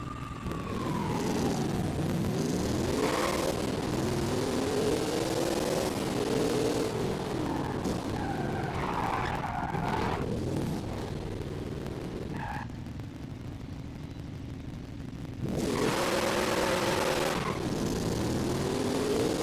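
An American car's engine in Forza Horizon 5 revs and drones steadily throughout, with rising and falling pitch sweeps, dipping briefly before surging loud again near the end.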